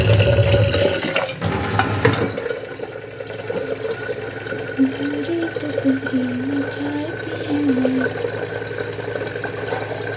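Hot tap water runs steadily into a kitchen sink after dishwashing, a continuous close splashing flow heard alone after a brief clatter at the start, with a faint voice or tone murmuring in the background.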